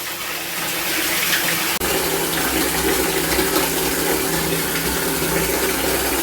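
Water pours steadily from an open tap into a bath during bathing, a continuous close hiss and splash that holds from start to finish with one brief break.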